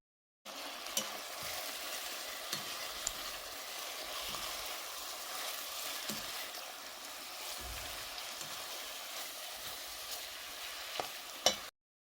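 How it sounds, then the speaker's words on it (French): Meat and onions sauté with marinade in a frying pan, a steady dense sizzle running throughout with occasional faint stirring clinks and scrapes, close by, with no talking. "Et je vais laisser le tout sauter juste quelques minutes."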